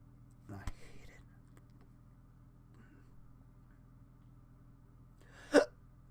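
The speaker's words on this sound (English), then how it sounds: "I got the hiccups." A man gets the hiccups in a quiet room: a small hiccup near the start and a sharper, louder one several seconds later, with faint breathy sounds between them.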